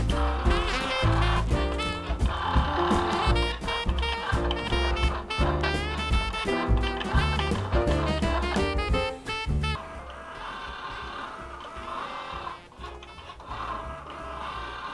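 A Cricut Joy cutting machine slices a printed sticker sheet on its mat, its stepper motors giving a steady whirring whine that shifts pitch as the blade moves, then quieter after about ten seconds. No one talks.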